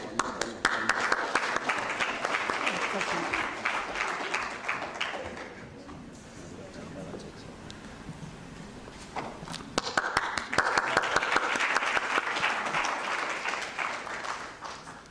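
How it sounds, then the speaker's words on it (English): Audience applause at a scientific symposium at a hotel in Dar es Salaam during a group photo, with loud clapping that dips in the middle while talk is heard, then swells again. "Yes, we can applaud while the picture is being taken."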